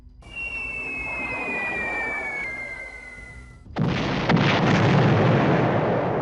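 Bombs dropped by the 305th bomb group strike an airfield in the B-17 Flying Fortress Leader game, a loud, dense rumbling burst of explosions that cuts in suddenly after a steady aircraft drone with a whistling tone.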